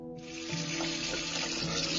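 Water supply rushing into a sand permeability tester, a brief steady hissing flow that starts abruptly and grows slightly louder, faint and alone.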